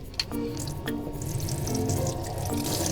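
Hot water runs from the shower in a 13-year-old used camper van (Zil 520), a steady close hiss with a few faint clicks and drips along the way.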